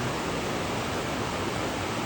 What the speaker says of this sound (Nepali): यस्तो खोला आइरहेको छ माथिबाट गाइस